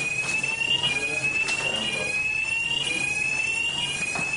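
A fire alarm sounds continuously in a room, a steady high-pitched electronic tone with a faint pulsing beat, loud and alone for several seconds.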